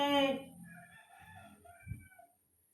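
A rooster crows loudly at the start, followed by softer clucking from chickens and ducks nearby, then fading quiet.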